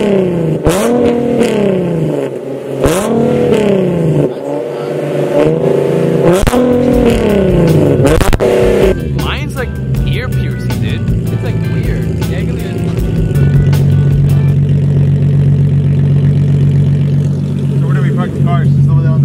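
A Nissan 370Z with an aftermarket exhaust revs hard, either a cheap eBay Y-pipe or a Tomei setup. Several rising and falling throttle blips come first, then a loud, steady, deep drone at close range.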